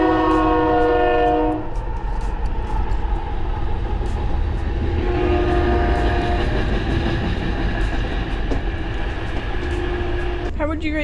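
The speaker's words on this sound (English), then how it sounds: "Here comes the train." A train rumbles past close by, its horn blaring at first, then steady wheel clatter and rolling noise with another horn sounding midway.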